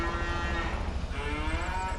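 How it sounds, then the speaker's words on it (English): Cows on a farm low in long, drawn-out moos that overlap in a steady barn hum, fairly close and loud with no voices. "let's see how the cows are doing"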